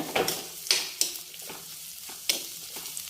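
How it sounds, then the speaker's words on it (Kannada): Onions fry slowly in oil, a steady soft sizzle broken by several sharp scraping stirs of a spatula against the pan, close and fairly loud, with no voices. "ಈಗ ನಿಧಾನವಾಗಿ ಚೆನ್ನಾಗಿ ಫ್ರೈ ಮಾಡ್ಕೋಬೇಕಾಗುತ್ತೆ. ಈಗ ಈರುಳ್ಳಿ ಎಲ್ಲ ಫ್ರೈ ಆಗಿದೆ"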